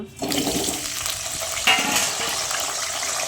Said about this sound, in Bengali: আমি এখানে গ্যাসে কড়া বসিয়ে তেল দিয়ে দিয়েছি এবার আমি আলুগুলো ভেজে নেব